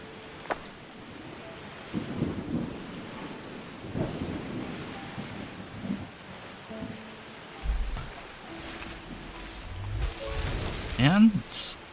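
Rain and rolling thunder in the Terra Nil video game, a steady wet hiss beneath several low rumbling thunder swells that build toward the end.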